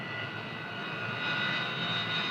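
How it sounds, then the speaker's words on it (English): Jet engines of A-4 and F-4 aircraft spinning up on an aircraft carrier flight deck, a steady loud roaring whine that builds slightly, with no voices. "Stand by to start the A4s and the F4s."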